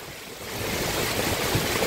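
Heavy rain pours down with strong wind gusting through, a dense, steady roaring wash that holds close and loud for the whole stretch, with no voices over it.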